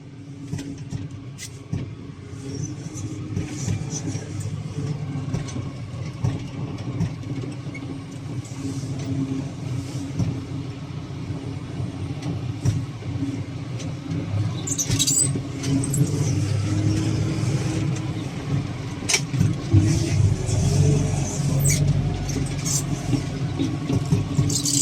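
A heavy diesel engine of a Manitou telehandler rumbles steadily nearby on a farm, growing slightly louder toward the end, with occasional metallic clanks over the drone.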